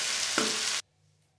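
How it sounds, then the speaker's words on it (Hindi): Boiled spaghetti is stirred in a hot pan with a loud, close, steady sizzle and scraping. It cuts off abruptly after under a second, leaving near silence. "अब हम इसमें बॉइल की हुई स्पैटी डाल देंगे 1/2 स्पैटी। अच्छी तरह से मिक्स कर लेंगे।"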